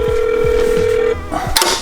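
A phone call rings out with a steady electronic tone that stops after about a second, followed by faint shuffling and a brief click, with a low background hum.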